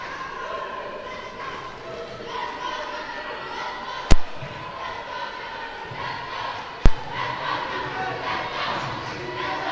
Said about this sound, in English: And there's a whole side cheering for Cameroon.